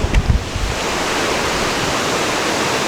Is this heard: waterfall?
yes